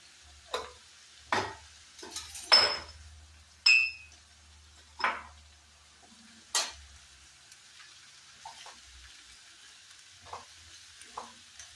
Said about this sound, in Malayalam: ചേരാനുള്ള ഉപ്പൂടെ ഒഴിച്ചിട്ട് നമുക്കൊന്ന് ഇളക്കി കൊടുക്കാം.